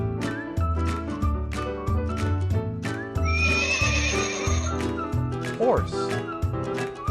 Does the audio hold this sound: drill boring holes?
no